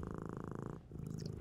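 A cat purrs close up with a steady, rhythmic rumbling that pulses evenly and continuously, with a brief dip partway through.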